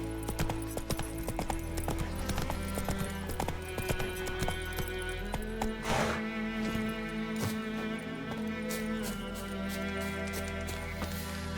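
Roach, Geralt's horse in The Witcher 3: Wild Hunt, trots with a steady, close clip-clop of hooves that carries on throughout, over a constant bed of game ambience.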